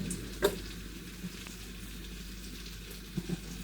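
Butter and olive oil sizzle softly in a frying pan, a low, steady crackle punctuated by a few small pops and a brief clink, close by and fairly quiet, with no talking.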